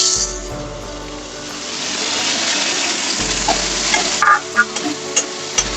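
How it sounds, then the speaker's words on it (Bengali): Onion and whole cumin fry in hot oil with cardamom, cloves and bay leaf, a steady close sizzle with bursts of stirring clatter near the end. "এতে আমি এখন দেবো সামান্য কিছু গোটা জিরে আর দিয়ে দেবো পেঁয়াজ দিয়ে।"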